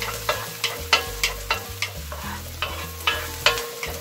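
Chopped green chillies and ginger sautéing in a pan for Gobi Manchurian, a loud sizzle broken by regular spoon scrapes about twice a second. The stirring is close and there is no talk.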